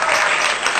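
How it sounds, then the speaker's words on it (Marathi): Congregation at a baptism service clapping together, a loud dense burst of many hands heard close and alone. "जरा टाळ्या वाजवा आपण त्याला धन्यवाद"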